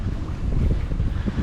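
Wind rushes over a microphone aboard a sailboat running with its engine off, a steady, close, low buffeting roar with no voices.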